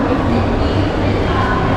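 A busy train station in Mumbai gives off a dense, loud, continuous roar of crowd bustle and rumble, with voices blended into the wash of noise.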